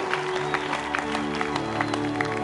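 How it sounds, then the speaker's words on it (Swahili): A stadium crowd at a night worship gathering at Uhuru National Stadium claps and ululates steadily, a dense wash of applause with high trilling cries under a sustained musical drone. "mpe Yesu makofi na vigelegele"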